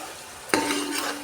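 Onion paste and turmeric fry in a pan for a Godavari-style fish curry; a brief stir scrapes once, then a steady sizzle continues close by.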